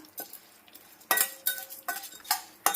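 Urad dal fries over a medium flame while a spoon stirs it in a pan for a curry leaf spice powder. About five sharp scraping clinks come close up in an irregular rhythm over a faint sizzle, with no talking.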